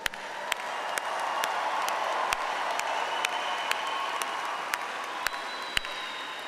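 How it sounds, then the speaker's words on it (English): A large graduation ceremony audience applauds in a hall, a sustained wash of clapping with scattered sharper individual claps standing out throughout. "There'll be a lot of applauding for you throughout the evening."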